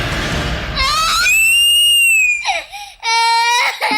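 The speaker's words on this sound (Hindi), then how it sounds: "वह बच्चा जमीन पर गिरते ही जोर जोर से चिल्लाने लगा।" A child who has fallen to the ground screams and cries loudly in high, sustained wails that break off briefly and then resume.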